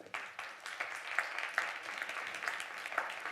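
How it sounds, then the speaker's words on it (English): Applause from a conference audience welcoming a guest onto the stage after a lunch break, a modest, steady patter of clapping at moderate level, with a few sharper claps standing out. "the applause is giving some energy in the room after the lunch break"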